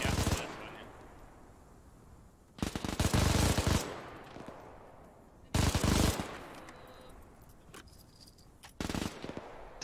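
Machine gun fire aimed at a bunker on a beach landing in a war video game, three loud close bursts of rapid shots separated by quieter battle ambience, with a voice talking.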